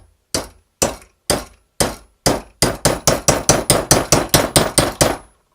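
A small hammer strikes a 3D-printed plastic part about fifteen times, the sharp clacking blows starting slow and spaced, then quickening into a steady, loud, close rhythm.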